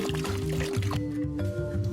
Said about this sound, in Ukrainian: Виливаємо в бак утворюється наша бакова суміш, краще виливати через марлю